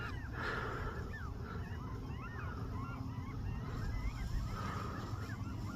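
A large flock of geese honks continuously at Glenmore reservoir at night, a dense chorus of overlapping calls carrying from a moderate distance over a steady low rumble.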